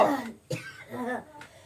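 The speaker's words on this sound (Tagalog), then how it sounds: "Inuubo ka yata." A few harsh coughs close by, with throat-clearing between the bursts.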